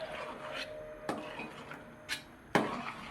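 Spoon scraping and rubbing against a pan while kesari is stirred, a few separate raspy strokes at moderate level with quiet gaps between them.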